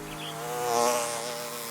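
A steady, droning buzz of bees hovers nearby, swelling slightly louder in the middle before easing off, with no other sounds.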